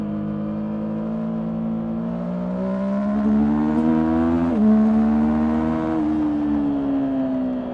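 A new Yamaha motorcycle accelerates on the road, its engine note climbing steadily in pitch as speed builds, loud and close, with a brief shift near the middle before rising again.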